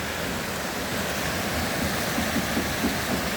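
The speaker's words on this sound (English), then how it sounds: "There's water just racing out from every nook and cranny." Water rushes and pours down a waterfall in a steady broadband roar, close and continuous with faint splashing texture, no voices.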